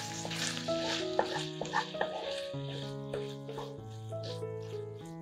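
Chicken hearts fry in an uncovered frying pan with a steady close sizzle and faint bubbling, under a background of melodic music.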